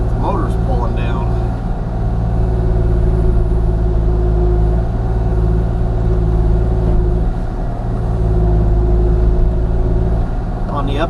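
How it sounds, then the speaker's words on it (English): Steady, loud low drone from a Kubota KX-040 excavator diesel engine labouring and bogging down during regen with cold hydraulics, running continuously throughout. "It is doing regen, but maybe my hydraulics is not quite that warm yet, but like the motor's pulling down."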